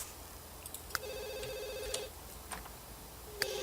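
A telephone rings in The Sims 3, sounding as two clear electronic ring bursts with a short gap between them, plus a few small game interface clicks, with no talk.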